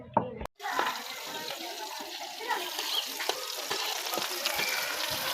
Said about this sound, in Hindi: अब मैं बनाने लगी हूँ हांडी, जो कि मैंने प्याज ऊपर ब्राउन होने के लिए रख दिया है।